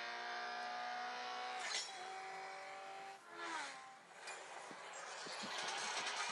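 A Honda Civic 1.5 VTEC is driven in a racing video game; its engine note climbs in pitch, drops at gear shifts and climbs again, fairly faint overall.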